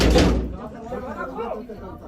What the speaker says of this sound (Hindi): देखो इधर से भी दरवाजा बजा रहे हैं, इधर से भी बजा रहे हैं।